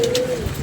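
Pigeons coo close by on a rooftop: a single low, throaty coo, loud and near, with no talk over it.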